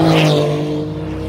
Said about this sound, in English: Porsche 911 Turbo S. Let's hear what it can do.